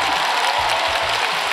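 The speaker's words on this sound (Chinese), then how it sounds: "鼓掌" A packed concert audience at Hong Kong's Coliseum for a show breaks into dense, steady applause, a loud, continuous wash of clapping with no gaps and no voices over it.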